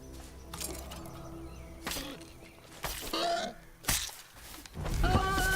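Goats bleat several times in a video game set in a medieval-style wilderness, short nasal calls scattered across the stretch amid game ambience, with a louder cluster near the end.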